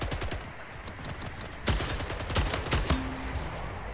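Rapid bursts of automatic gunfire in a video game, with several sharp loud shots around the middle and a short high electronic tone after, fairly close and without talk.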